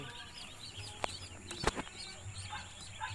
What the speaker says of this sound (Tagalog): Bumisita po kami dito sa aming mga bagong dating na mga sisiw. Mga itik.